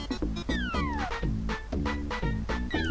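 Video-game cat meows from Doraemon 4, a quick series of short meows over busy game music and sound effects, loud and continuous.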